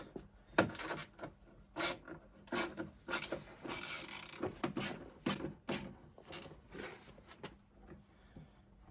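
An 8 mm socket on an extension works headlight mounting bolts loose during a 2015-2017 Ford F-150 headlight swap, giving a run of quick close ratcheting clicks and scraping metal bursts with short gaps between them.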